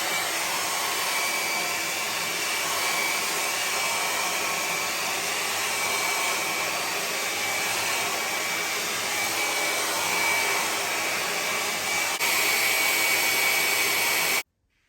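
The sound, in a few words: hair dryer drying a wig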